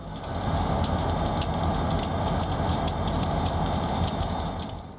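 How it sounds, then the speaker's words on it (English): Four Ohio Central SD40-2 diesel locomotives, including ex-Union Pacific and Florida East Coast unit 722 built in 1980, idling by the yard office, a steady deep rumble close by with faint metallic clicks. "we find a quartet of Ohio Central's SD40-2 locomotives sitting by the yard"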